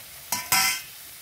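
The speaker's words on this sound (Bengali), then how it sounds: "এবার সেই তেলে আলুটা ভাজতে বসিয়ে দিয়েছি।" Potatoes dropped into hot oil for a fish curry give two short, close sizzling bursts, the second louder, then a fading hiss.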